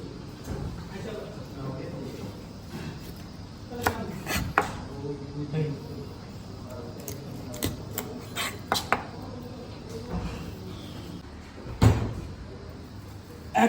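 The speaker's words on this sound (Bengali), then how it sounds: "আমি মাছটা একটু তেড়া করে কাটবো," Knife slicing a fish into slanted pieces for a Bengali kalia, with repeated sharp chops and board knocks at an uneven pace amid kitchen clatter, close and moderately loud while someone talks throughout.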